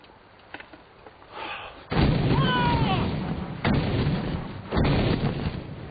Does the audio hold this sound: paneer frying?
no